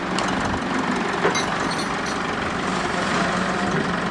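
A 1986 Pontiac Parisienne idles on its first start, a steady, fairly loud engine rumble with an even drone and a brief bump partway through, with no talking.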